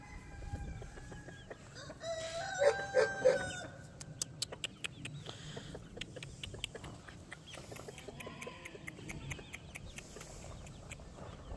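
Small chickens of the world's smallest breed cluck and crow nearby on a homestead, with a burst of calls early on and then scattered short clucks and chirps.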